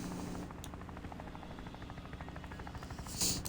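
A helicopter in Craftopia drones steadily with a fast rotor chop and engine hum, a constant mid-level whir with a brief brighter swell near the end.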